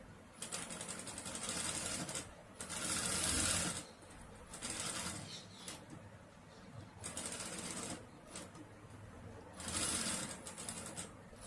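Sewing machine stitching a jacket made from a saree pallu runs in several quick bursts of rapid mechanical clatter, with short quiet pauses between runs. Fairly faint and close, with no speech.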